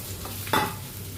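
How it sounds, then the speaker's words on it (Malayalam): Mustard seeds spluttering in hot oil on a large stove, then a brief, sharp sizzle as onions drop into the pan, close and quiet apart from that burst. "കടുക് പൊട്ടി ഉള്ളിയിട്ട് കൊടുക്കാം"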